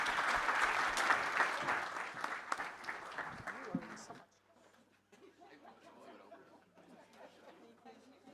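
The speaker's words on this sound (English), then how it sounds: "Please, round of applause for our panel." An audience at a security forum gives a panel a loud round of applause that fades after about four seconds into scattered clapping and murmuring chatter.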